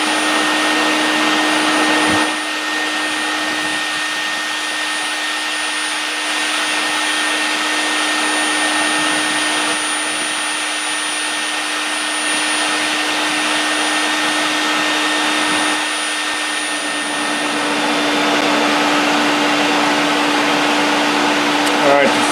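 A vacuum sucks flying bees back out of a hive built inside a speaker box, its steady loud drone running unbroken from start to finish with only slight dips in level.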